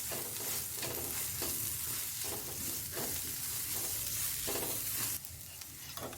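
Red chili powder and Kashmiri chili powder are stirred into frying mutton brain, giving a continuous close sizzle with repeated scraping stirs at a fairly even rhythm.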